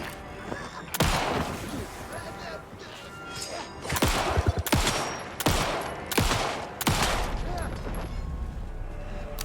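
Gunfire in the survival horror game Alan Wake 2 cracks out in several sharp, loud bursts spaced a second or two apart, with some rapid follow-up shots, over a low ambient backdrop.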